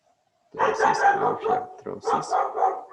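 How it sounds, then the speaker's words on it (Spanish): Dog barking angrily in a home during a Spanish lesson, a burst of loud close barks and yips in quick succession. "Disculpan el perro que se enojó"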